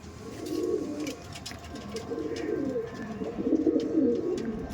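Madrasi tournament pigeons cooing in a loft, several low, throaty coos rolling in repeated bursts close by, with faint background clatter and no speech.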